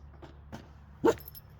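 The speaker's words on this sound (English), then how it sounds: "Hey, stop your barking." A dog by a fishing pond gives a few soft yips, ending in one sharper, louder bark, fairly close against a quiet background.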